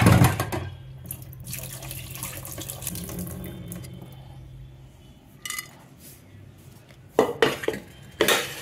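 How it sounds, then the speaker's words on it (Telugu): Chana dal is swished and rinsed with water inside a pressure cooker, with sloshing, running water and metallic clinks of the pot, busy at first, then quieter, with sharper clatters near the end. "శనగపప్పు తీసుకొని కుక్కర్లో వేసుకొని వాష్ చేసుకోవాలి"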